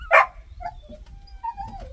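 A dog in a group dog-training class gives one sharp bark up close, followed by soft whines and whimpers tapering off in a fairly quiet room.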